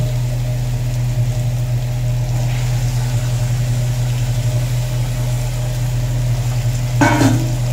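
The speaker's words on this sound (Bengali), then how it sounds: "দেখুন মাংসটা দিয়ে ভালো করে কষিয়ে নেব।" Marinated mutton fries in oil and spice paste in a home kitchen, sizzling steadily under a constant low hum, with a brief louder stir or clatter near the end.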